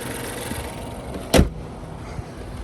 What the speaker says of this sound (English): Let me close the hood real quick